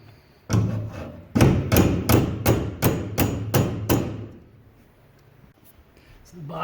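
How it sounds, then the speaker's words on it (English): A hammer taps a bent door hinge bracket on a pontoon boat: eight sharp metallic blows in a fairly even rhythm over a few seconds, loud and close, then quiet. "Probably find a hammer."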